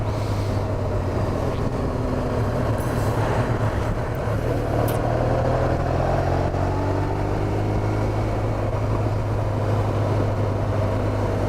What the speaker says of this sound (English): you can just hear by the engine revs that I'm not going very fast at all